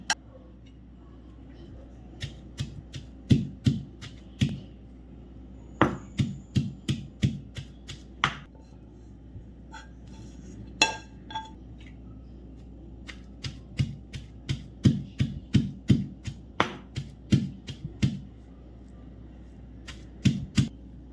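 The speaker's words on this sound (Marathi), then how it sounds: "गरम असताना जरा गवार ठेचून घ्यायची आहे आपल्याला थोडी थोडी करत ठेचून घ्यायची आहे" Roasted cluster beans (guar) are crushed for thecha, with sharp, irregular pounding knocks coming in bursts and short pauses, close and fairly loud over a quiet background.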